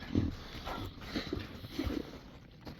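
Low, rough growls and snarls from dogs, several short bursts close by, fairly quiet overall.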